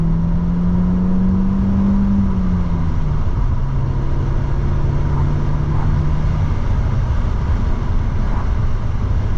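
An Audi A3 1.8T 20-valve turbo engine pulls at full throttle in second gear, a steady in-car drone whose pitch climbs, dips at a shift, then holds level with no talk over it.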